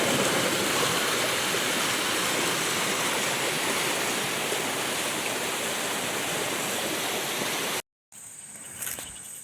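A storm-swollen stream that has broken its bank rushes past, a loud, steady roar of flowing water filling most of the stretch before cutting off abruptly to quieter surroundings near the end.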